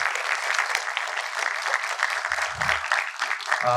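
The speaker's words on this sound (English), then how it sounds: "Let's have a big round of applause for our chief guest." At a formal event an audience applauds the chief guest, a police officer, with sustained, evenly dense clapping throughout and a faint murmur of voices beneath.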